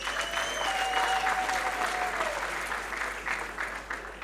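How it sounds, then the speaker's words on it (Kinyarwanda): Audience applause for a fan of the Rutsiro team at a lively gathering, a steady, sustained wash of many hands that fades slightly toward the end, with a faint tone over it. "mumpera amashyi menshi"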